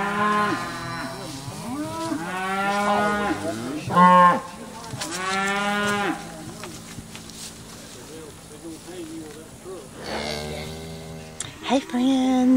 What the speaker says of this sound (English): we are helping my father-in-law get up some cows